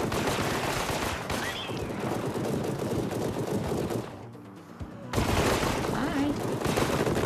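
Automatic gunfire from a combat device in a horror video game, dense sustained bursts filling the scene, briefly dropping out then resuming loudly, with players talking over it.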